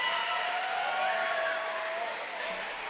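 A roller derby crowd cheers and applauds after a skater's spin move, a steady, dense wash of claps and voices that holds at an even level for the whole stretch.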